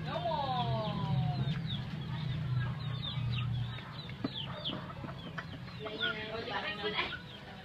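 Chickens being fed in a coop make busy overlapping clucks and chirps near at hand, with a low hum in the background and people talking now and then.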